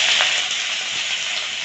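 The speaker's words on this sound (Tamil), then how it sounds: "வெங்காயம் வந்து வதங்கட்டும்." Chopped onions hitting hot oil with popping mustard seeds in a kadai, a steady bright sizzle with soft crackles, close and continuous without talk.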